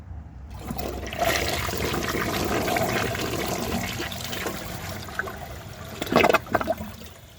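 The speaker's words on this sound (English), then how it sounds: "For having a short flush, it has very good suction power." A 1998 Western Pottery Clinton toilet flushes with a grocery bag in the bowl: a loud, rushing swirl of water that drains and then trickles as the tank refills, ending with a few gurgles and clunks.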